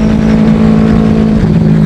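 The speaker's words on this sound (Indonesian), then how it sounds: "Ninja Karbu ini suaranya lebih tebal ya. Ini saya pakai knalpot Yoshimura R77 ya." Steady, loud engine drone from a carbureted Kawasaki Ninja 250 motorcycle fitted with a Yoshimura R77 exhaust, holding a deep, thick idle-to-rev tone close by with no talk over it.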